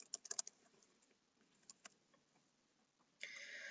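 Quiet clicks of typing on a computer keyboard come in a quick burst at the start, then scattered single keystrokes follow, ending with a steady faint electronic hum.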